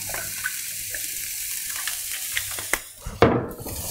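Soft, steady sizzling of onions frying in oil in a pan, with a few light clicks and a sharper clatter near the end.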